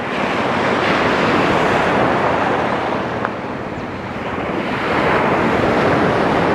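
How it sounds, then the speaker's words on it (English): Ocean surf washes steadily onto a beach at Rayong, Thailand, a loud, continuous roar of breaking waves with gusts of wind buffeting the microphone and no voices. "we're walking in the surf here"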